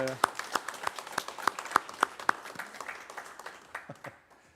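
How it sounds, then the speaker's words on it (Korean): Scattered applause breaks out in a church during an anniversary worship service, with a handful of sharp, distinct claps near the start that thin out and fade toward the end, over background voices. "박수 한 번 더 합니다."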